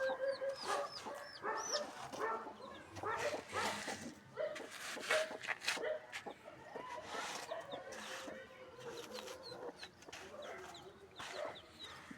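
Hens and chicks cluck and peep repeatedly around a scratched-out hole in the ground, nearby and fairly faint, with a person talking at times and a possible dog bark somewhere in the mix.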